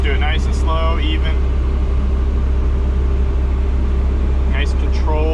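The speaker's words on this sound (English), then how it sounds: "Now we'll go ahead and spin the boom. We'll just do it nice and slow, even." Cat 303.5 mini excavator slowly swinging its boom, a steady loud engine drone with low hydraulic hum throughout, strained whines rising briefly near the start and end.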